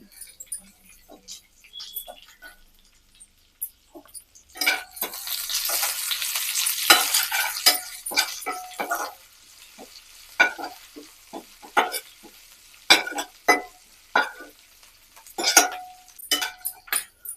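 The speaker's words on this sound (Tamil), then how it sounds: "பூண்டு இஞ்சியும் நல்லா வதங்கிடுச்சு." Garlic and ginger sizzle and fry in a pan while a utensil stirs and scrapes, with intermittent metallic clinks throughout.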